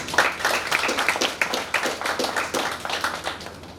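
An audience at a young writers' fiction workshop applauds a student, a steady wash of many hands clapping that continues alone at moderate volume throughout.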